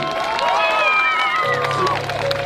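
A concert audience applauds and cheers for a rapper, a dense, loud wash of clapping mixed with voices and tonal sounds from the stage.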